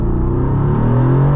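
A Mercedes AMG accelerating hard in Race mode, its engine note climbing steadily in pitch as a loud, close, continuous rumble over the short stretch.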